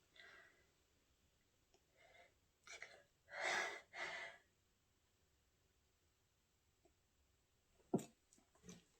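A single sharp sneeze bursts out near the end, preceded by a few breathy inhales and sniffs, close and fairly loud against a quiet room.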